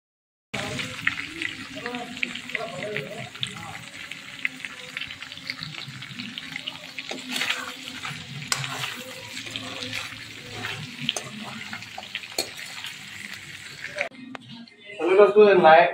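Meat cooks in a hot pan, giving a steady, close, hissing sizzle with occasional stirring clatter that runs on for a long stretch while people talk over it, then turns louder at the very end.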